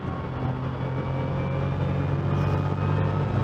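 A 580hp BMW M2 lapping a race track, its engine a steady close droning roar heard from inside the car, holding a sustained tone without pauses or voices.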